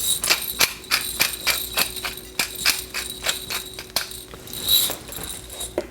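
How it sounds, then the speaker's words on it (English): Pepper mill grinding fresh black pepper over a watermelon salad in a kitchen, a series of sharp, evenly spaced ratcheting clicks and crunches, close and fairly loud with no talking. "We'll do some fresh ground pepper."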